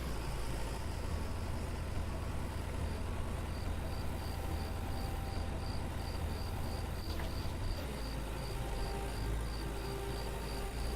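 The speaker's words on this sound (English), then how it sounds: "We'll go park her tractor down by the fuel pump." A tractor engine idles low and steady in the Farmer's Dynasty farming video game, its deep hum running beneath a loud, constant chorus of chirping crickets.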